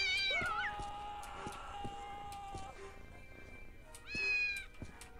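Cats meowing and yowling in a cat shop in the video game Postal 2, several drawn-out cries over a busy background with regular thumps.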